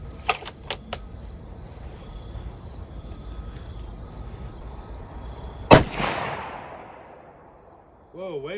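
A rifle fires at a 50-yard target outdoors: a few sharp distant cracks early on, then one loud close shot with a long rolling echo, followed by a brief voice.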